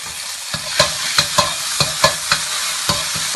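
Doubanjiang, a spoonful of chili bean paste, frying in hot oil in a wok, a bright steady sizzle punctuated by sharp spatula clicks and scrapes at an uneven pace, close up and with no one speaking.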